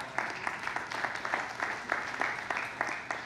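An audience at a church talk claps in a sparse, uneven way, with distinct hand claps spaced irregularly at a low, fairly distant level.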